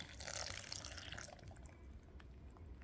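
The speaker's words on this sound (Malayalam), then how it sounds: "കുറച്ച് വെള്ളം ഒഴിച്ച് കൊടുക്കുക." Water pours into a juicer jar of chopped strawberries and sugar, a steady splashing rush strongest in the first second and a half, then easing into softer trickles and drips close by with no talk.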